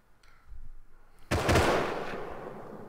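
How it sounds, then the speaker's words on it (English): Gunfire in the video game Rust: after a quiet stretch with faint rumbling, a sudden loud blast erupts and trails off into a long, noisy, decaying echo. "I heard a lot of gunshots. Like, a lot."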